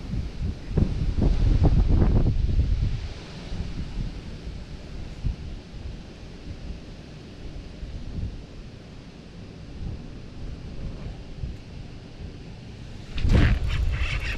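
Gusty wind buffets the microphone at dusk, loud at first and then settling into a steady outdoor rush, with another strong gust near the end.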